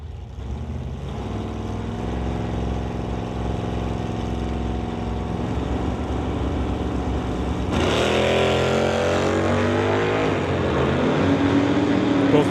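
A Chevrolet Bel Air and a 1969 Acadian launch in an NHRA Summit ET drag race, with a steady, loud engine drone whose pitch rises and sweeps upward as the cars pull away.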